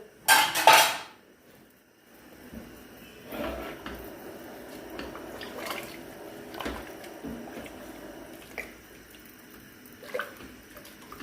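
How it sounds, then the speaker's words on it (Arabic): A spoon clatters and scrapes against a pot while chicken tagine ingredients are stirred, with a sharp metallic clang at the start followed by softer intermittent scrapes and knocks, fairly quiet and close. "هكذا نزيدو خلطوها مليح حتى يتخلطوا كامل هذوك المكونات اللي راهم لداخل"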